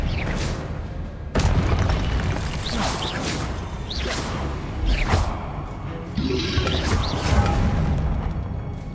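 Confringo blasting spells in Hogwarts Legacy go off as repeated booming explosions and whooshes, loud and close, in a busy, dense mix of impacts.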